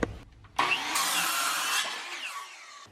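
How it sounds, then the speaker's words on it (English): Power saw cutting a 2x4 board indoors for a bench frame, a short loud buzzing cut of about two seconds starting abruptly and ending as the blade spins down. "He is about to make the cut for the first board."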